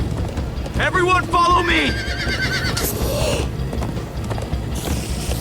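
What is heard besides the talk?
horses galloping in video game Minecraft Story Mode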